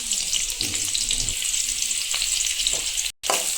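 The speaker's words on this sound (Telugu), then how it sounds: "కొంచెం నూనెలో అది అలా వేయిస్తూ ఉండాలి." Onions, garlic and dried red chillies fry in a little oil with a strong, close, steady sizzle and faint stirring, the sound cutting out for a split second near the end.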